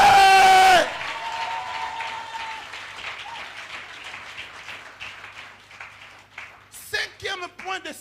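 Church congregation bursting into loud applause and cheers acclaiming the Lord, strong at first then quickly fading into scattered murmurs, with voices rising again near the end.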